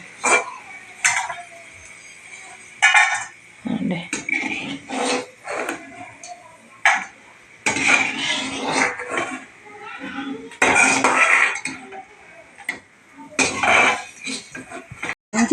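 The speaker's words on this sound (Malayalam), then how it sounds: "സിമ്മിലോട്ടാക്കിയിട്ട് ഇരുന്ന് കോരി വേറെ പാത്രത്തിലോട്ടാക്കുവാണ് കേട്ടോ" In a home kitchen, fried food is scooped from a pan of oil into another vessel, with intermittent metallic scrapes and clinks of a ladle against cookware.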